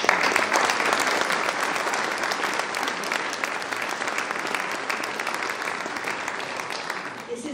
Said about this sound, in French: je crois qu'on peut aussi les applaudir